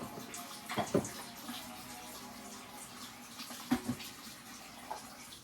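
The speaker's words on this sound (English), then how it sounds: "You're going to rinse this out." Juicer parts are rinsed under running water, a faint steady splashing stream with a few louder clunks and knocks of plastic pieces being handled.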